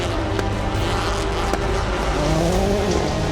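A Subaru rally car races flat out around a GRC Charlotte track, engine roaring loud and close with tire noise and shifting pitch as it sweeps past, a busy race-track din throughout.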